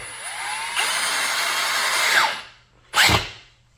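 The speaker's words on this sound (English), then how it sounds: "I'm using a drill for this" A power drill fitted with a T25 bit drives a fastener while a BMW E30 sport seat is assembled. It whirs steadily for about two seconds and winds down, then gives a second short, loud burst after a pause.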